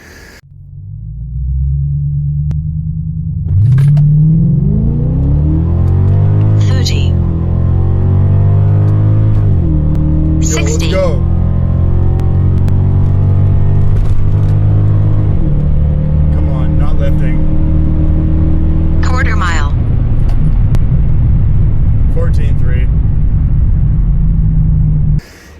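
Infiniti Q45 engine running with a steady low rumble, rising and falling pitch as it accelerates and revs repeatedly over the stretch, loud and close, with occasional brief sharp noises on top.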